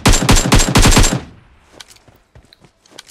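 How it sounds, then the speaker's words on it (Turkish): Rapid automatic gunfire in PUBG Mobile, a loud burst of about eight close shots in quick rhythm, then a sudden stop leaving faint scattered distant pops and clicks. "sağda bir atış sesi duydum"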